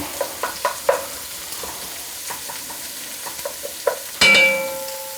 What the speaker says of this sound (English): you don't want to brown your onions, you want to just make it translucent